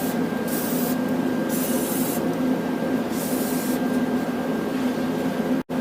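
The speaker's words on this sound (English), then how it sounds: "Spray some penetrating fluid around the joint here where the axle wheel bearing attaches." Penetrating fluid hissing from an aerosol can onto the axle wheel bearing joint of a 2009 Ram 1500 4x4, a steady close spray in several bursts, ending with a brief click.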